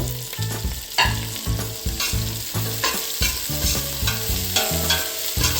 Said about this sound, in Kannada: ಈರುಳ್ಳಿಯಿಂದ ಚೆನ್ನಾಗಿ ಸಾಫ್ಟಾಗಿ ಗೋಲ್ಡನ್ ಬ್ರೌನ್ ಆಗೋವರೆಗೂ ಫ್ರೈ ಮಾಡ್ಕೊಳ್ತಾ ಇರಬೇಕು